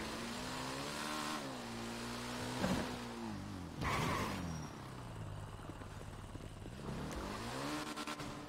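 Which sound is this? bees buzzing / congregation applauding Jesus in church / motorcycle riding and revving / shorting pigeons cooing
motorcycle riding and revving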